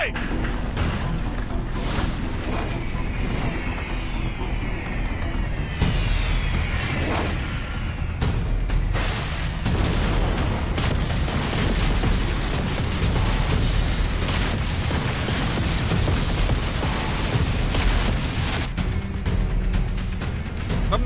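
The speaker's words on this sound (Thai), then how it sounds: "ทิ้งระเบิดได้ ทิ้งระเบิดได้" A long barrage of booming explosions and heavy rumbles from bombs being dropped rolls on continuously, with faint whooshes of falling bombs near the start.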